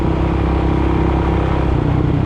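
A 2005 Suzuki DRZ400SM motorcycle engine drones steadily and loudly while accelerating, its low rumble holding even throughout with no voices.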